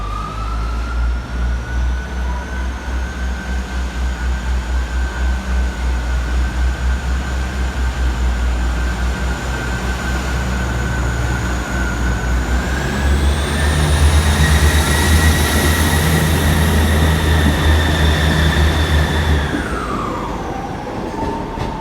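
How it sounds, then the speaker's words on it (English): A delayed train to Norwich draws into platform 4B at a British station, a loud close rumble with a sustained tonal whine that rises in pitch partway through, then drops away as the train slows. "The delayed 11:34 to Norwich has now arrived at platform 4B."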